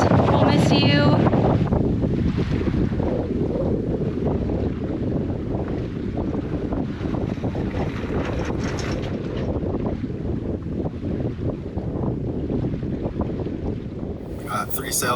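A sailboat moves under three sails in light wind of about seven knots, water rushing and sloshing along the hull with steady wind buffeting the microphone while people talk.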